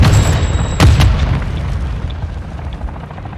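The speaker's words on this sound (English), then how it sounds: "I just killed a bunch of them with a rocket." A rocket launcher explosion in a shooter video game, a loud booming blast followed by a sharp second crack and a long rumbling decay, with no talking.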